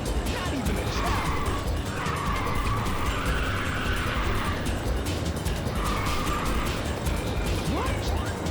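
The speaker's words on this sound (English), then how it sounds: "Still drifting." Car drifting around a corner in the Ridge Racer PSP racing game, with sustained tyre screech across the middle of the clip over steady engine roar, fading and then returning briefly later; a voice talks underneath.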